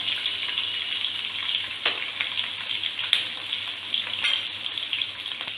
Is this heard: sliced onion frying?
yes